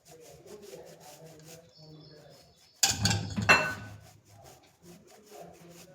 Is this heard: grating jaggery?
yes